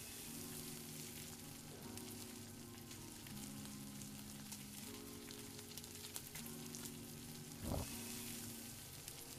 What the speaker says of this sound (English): Prime ribs cooking.